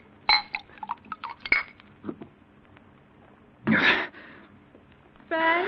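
Drinking glasses clink together in a few bright, sharp taps and rattles, close and clear in an otherwise quiet room, with a brief louder clatter near the end.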